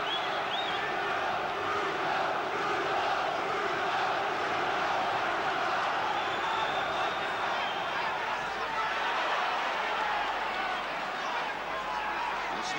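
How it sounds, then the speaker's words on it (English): Boxing crowd at a heavyweight bout between Bonecrusher Smith and Frank Bruno, a dense, sustained roar of cheering and shouting that stays loud and unbroken throughout. "This crowd willing Bruno to finish it here."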